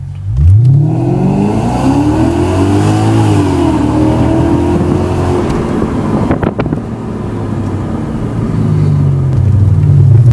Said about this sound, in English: Okay, here we are, modified exhaust, in car with all windows down.